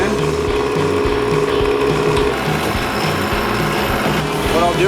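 A big planer blade sharpener grinds a planer blade on a heavy pass, giving a steady mechanical whir with rhythmic ratcheting clatter throughout, loud and continuous with no talking.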